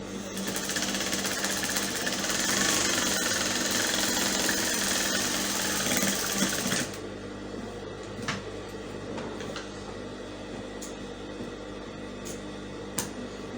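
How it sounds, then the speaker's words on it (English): A sewing machine stitching a sleeve seam runs in a fast steady whir for about seven seconds, then stops, leaving faint room noise and a few small clicks, close by with no talk. "So we'll go and start stitching it now."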